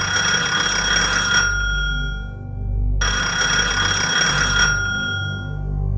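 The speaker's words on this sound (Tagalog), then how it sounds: "nang biglang tumunog ang lumang telepono sa sala." An old-fashioned telephone bell in a living room rings loudly in two long bursts separated by a short pause, with no voices.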